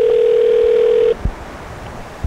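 A steady telephone dial tone hums loudly for about a second, then cuts off, leaving faint room noise and a couple of soft clicks.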